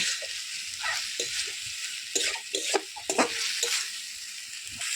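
Chicken feet fry in a pan with a continuous bright sizzle, broken by repeated scraping and clattering as the pieces are stirred close up.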